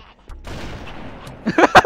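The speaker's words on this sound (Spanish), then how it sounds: "Le metí un balazo en la sien." A burst of gunfire in the video game Halo crackles in quick succession, several sharp close reports stacking near the end after a brief quieter rustle.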